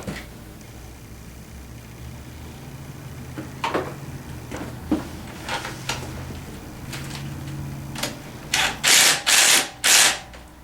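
Bolts are tightened on a Tao Tao 150 Hummer ATV during assembly, with scattered metallic clicks and clanks followed by several loud, close bursts of rapid ratcheting, over a low background hum.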